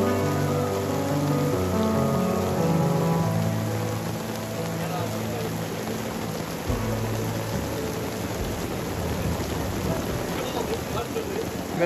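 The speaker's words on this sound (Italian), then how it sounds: "Piove!" Steady rain falls during a walk along the Camino Primitivo pilgrimage route in Spain, a dense continuous hiss with some louder patter, while a tonal hum fades after a few seconds.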